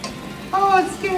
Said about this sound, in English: we're gonna let this brown for about 30 seconds. And I'll give it a little stir.